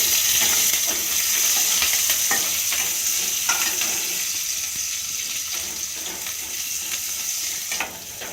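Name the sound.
marinated bhola fish frying in hot oil in a wok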